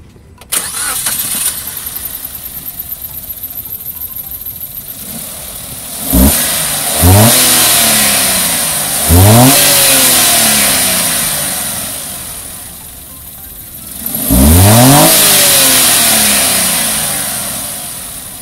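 A Suzuki Karimun Wagon R with a 1000 cc K10B engine cranks and starts, then idles and revs in several rising blips, close and loud with no talking.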